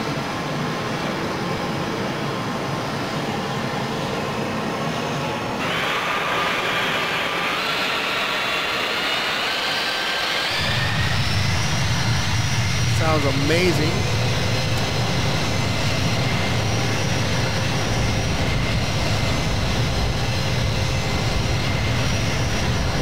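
A C-17 jet in Microsoft Flight Simulator spools up and roars down the runway for takeoff, a loud steady engine drone that swells midway with a deep rumble underneath, while a person briefly talks over it.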